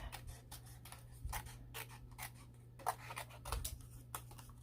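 Scissors snip through paper around a butterfly cutout for a scrapbook layout, giving a series of short, close, crisp cuts with quiet pauses between them.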